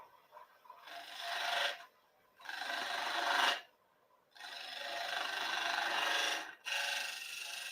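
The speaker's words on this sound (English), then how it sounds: "I'm using my little robust spindle gouge to create a dovetail" A small spindle gouge cuts a dovetail recess into the base of a three-cornered wooden bowl spinning on a lathe, giving three long bursts of rasping, scraping cuts with short quiet gaps between them.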